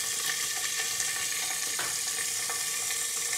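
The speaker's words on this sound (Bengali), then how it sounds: "তো ঢাকা দিয়ে দিয়ে মাছগুলোকে আমি ভেজে নেবো।" Singhi fish fry in a covered pan with a steady, dense sizzle that stays even throughout, and no one speaks.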